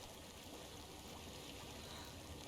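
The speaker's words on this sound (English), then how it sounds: "I hear water." A flowing stream in the game Hellblade: Senua's Sacrifice, a faint, steady wash of running water that never breaks or changes, with no voices over it.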